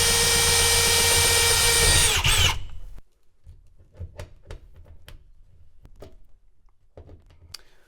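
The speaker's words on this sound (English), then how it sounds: "I have to drill a bigger hole for this to sit onto" A power drill whines loudly for about two and a half seconds while enlarging a hole in the metal of a mobile welding trailer, then cuts off, leaving scattered light clicks and knocks of handling.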